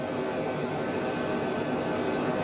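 A small JetStar jet in Microsoft Flight Simulator 2020 roars on its takeoff run, a steady, unbroken whoosh of engine noise with a high whine and no talking.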